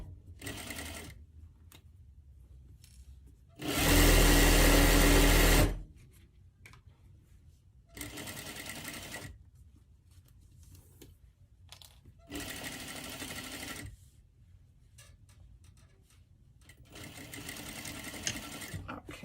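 A sewing machine stitches fabric in loud bursts: one long, intense run, then several shorter rattling runs spaced by quiet pauses while the sewer works slowly over pins.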